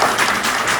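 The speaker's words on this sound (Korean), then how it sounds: "큰 박수." An audience gives a brief, loud burst of applause at a Korean alumni association gathering, dense clapping filling the whole short moment.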